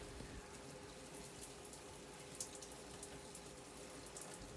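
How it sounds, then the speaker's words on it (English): Warm tap water runs while a hair mask is rinsed out, a steady faint hiss of flowing water with small splashes and drips throughout. "I'm just going to go in with warm water to get this hair mask rinsed out."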